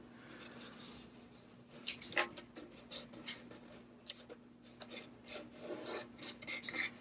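Vinyl scrap being smoothed down onto a surface with a scraper tool during a Cricut craft project, heard as close, soft rasping and rubbing strokes that come in uneven bursts with no talking.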